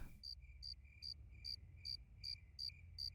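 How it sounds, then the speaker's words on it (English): Cicadas chirping in a park, a steady bed of insect drone with regular high pulsed buzzes repeating about every third of a second, moderately loud and alone with no talk. "Only the cicadas will keep us company."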